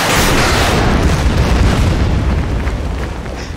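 A loud, broad artillery blast from the WWII strategy game Order of Battle, booming in from the start and rumbling on for several seconds as it slowly fades, with no talk over it.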